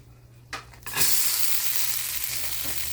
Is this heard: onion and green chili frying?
yes